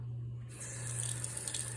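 Water runs from a tap during homemade yogurt preparation, starting abruptly after a quiet moment and then pouring steadily and fairly close, with a low hum underneath and no talk.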